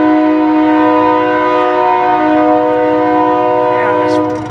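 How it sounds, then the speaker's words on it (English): Train rolling past outdoors while sounding its horn, a loud sustained multi-tone blast held for several seconds over a steady rumble of wheels and cars. "sorry, train's going by"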